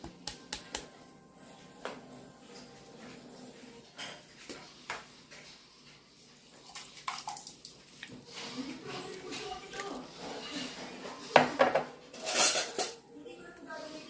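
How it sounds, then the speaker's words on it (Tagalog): A spoon or whisk stirs a corn flour and liquid mixture for maja blanca in a metal bowl, giving quiet rhythmic clinks and taps that grow busier and louder toward the end, with no talking. "Haluin natin ito hanggang sa mag-well combine"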